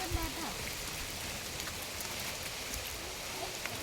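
Heavy rain falling outdoors near Chimmini Dam, a dense, even hiss of downpour without a break, with no clear speech.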